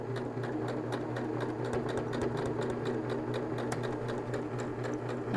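A sewing machine runs steadily, stitching a straight seam across a fabric popcorn bag, with a continuous mid-pitched motor hum and rapid needle ticking close by.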